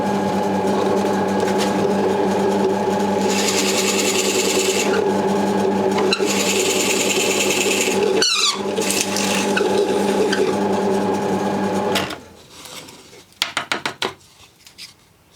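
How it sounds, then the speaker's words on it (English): A Forstner bit drilling into wood, a steady loud grinding and rasping hum that runs for several seconds before cutting off, followed by a few short clattering knocks. "Let's drill again."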